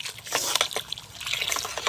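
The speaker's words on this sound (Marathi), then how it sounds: "आता आपण यामध्ये हा तांदळाचं पाणी टाकून घेऊया" Rice water pours steadily into a pot on a wood-fired stove in a field, close by, a continuous splashing trickle with small bubbling surges and no voices.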